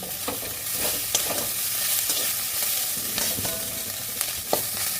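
Spices and chicken stir-fried over a medium gas flame, with a dense steady sizzle and regular spatula scrapes against the pan every second or so.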